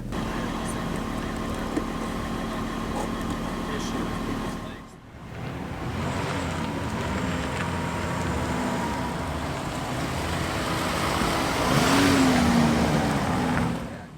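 A Class B RV camper van is driven on the road, producing a steady engine and road rumble heard from inside the cab, with a voice speaking over it and a brief dip midway.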